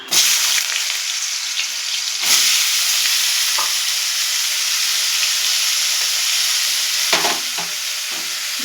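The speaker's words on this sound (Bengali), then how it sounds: "এদিকে তেল গরম হয়ে গেছে, আমি এবার আলুগুলো ভেজে নেব।" Potatoes drop into hot oil and fry with a loud, dense, continuous sizzle, broken by a few brief stirring clatters close by, with no talking.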